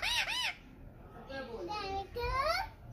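Pet parrots kept at a village home in Pakistan, giving loud squawks and warbling, speech-like calls, near and sharp, in short bursts that may include imitated words.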